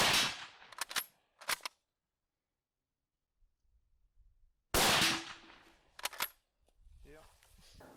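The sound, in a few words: MAS 36 bolt-action rifle firing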